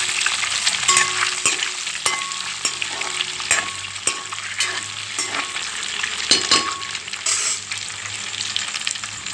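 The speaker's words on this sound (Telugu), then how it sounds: "మరి వేగనవసరం లేదు, లైట్గా వేయించుకోవాలి. లైట్గా పసుపు వేసుకోవాలండి. వేసుకొని కలుపుకోవాలి." Ingredients fry lightly with turmeric in a pan, a steady close sizzle with repeated spatula taps and scrapes against the metal as everything is mixed.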